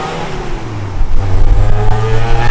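A Toyota AE86 Hachiroku revs on the street at a Japanese classic car event, its engine climbing loudly into a throaty, rising drone close by.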